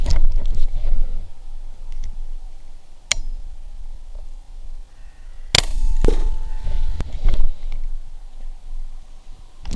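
A shot fired at a rabbit in an open field at about 25 yards, heard as a few sharp, short cracks standing out over a steady outdoor background hiss.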